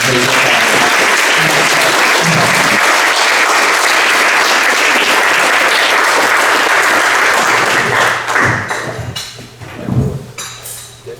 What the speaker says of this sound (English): So everyone, if you would, give us a round of applause.